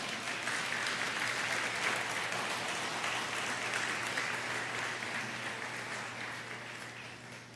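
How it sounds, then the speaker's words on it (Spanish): Sustained applause from a church congregation, a steady wash of clapping that holds for several seconds and slowly fades toward the end. "Den un aplauso al Señor."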